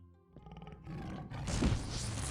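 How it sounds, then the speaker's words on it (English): A tiger growls and roars from behind a wall in The Elder Scrolls II, a rising, rough snarl that swells loud and sustained after a low opening rumble. "God, that tiger's on the other side of that wall. It's frightening. Hear it growling."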